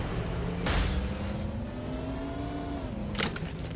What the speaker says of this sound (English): I'll use this car.